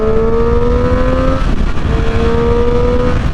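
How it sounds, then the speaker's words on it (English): A 2010 Triumph Daytona 675 sport bike accelerates hard to overtake. The loud engine note climbs in pitch, breaks briefly at a gear change, then rises again under steady wind roar. "it's got way more induction noise than a Street Triple of the same era had"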